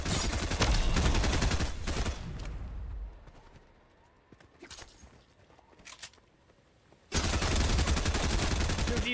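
Dense, rapid gunfire in the Fortnite video game rattles loudly for about three seconds, drops to sparse, quieter shots and clicks, then bursts back into heavy continuous fire.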